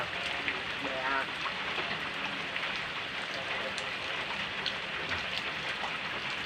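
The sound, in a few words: rain falling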